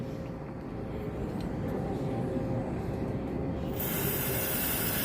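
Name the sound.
spraying carburetor cleaner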